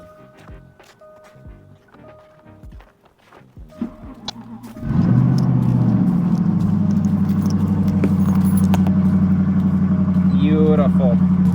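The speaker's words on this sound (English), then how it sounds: "we're going to get this thing fired up and go put it on the trailer" A 700 hp Jaguar XFR engine cranks and catches about five seconds in, then settles into a loud, steady idle that runs unbroken to the end, with people talking quietly before it starts.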